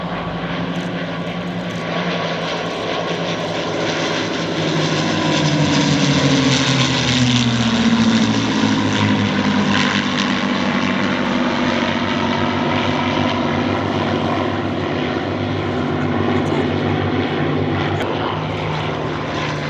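Three P-51 Mustang propeller warbirds pass low at the Thunder Over Michigan 2021 airshow, a loud, continuous piston-engine roar that swells and sweeps in pitch as they go by, with no voices.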